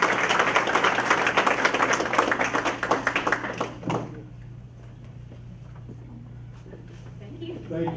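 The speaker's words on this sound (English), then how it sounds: "let's give her one more great round of applause for her fantastic work" Audience applause fills a county school board meeting hall, a dense burst of clapping for about four seconds that quickly dies away into quiet room tone and scattered murmurs.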